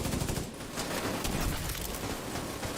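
Dense, continuous gunfire in a battle against krakens in a game, a steady close rattle of overlapping shots with no pauses.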